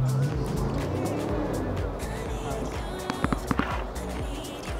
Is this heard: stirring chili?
no